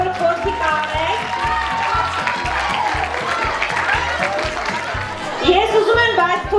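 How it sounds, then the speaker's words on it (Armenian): A crowd applauds the brave boy contestants at a middle-school stage event, a steady round of clapping mixed with audience chatter and voices, swelling slightly near the end. "Եկեք հատուկ ծափահարենք մեր մրցույթի մասնակից համարձակ տղաներին"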